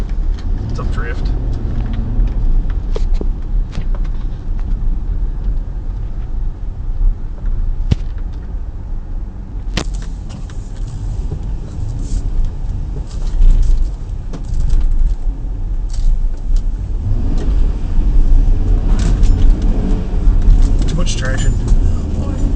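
A car pushes through deep snow drifts on a road during a 2011 blizzard, its engine rumbling low and steady with wind noise and crunching throughout, while a person talks over it.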